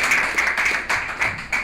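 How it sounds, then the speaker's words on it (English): An audience at a recovery services alumni meeting gives speaker Manny a round of applause, a brief burst of clapping with a few distinct louder claps, fairly close. "Let's give Manny a big round of applause."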